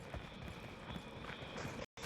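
Galloping horse hooves in a mobile video game, a steady run of soft clip-clop beats mixed in with game sound effects that stays continuous before cutting out briefly near the end.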